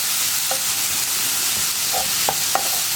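Green chillies frying in a pan for a vegetable stew make a loud, steady sizzle, with a few sharp scrapes of stirring rising above it.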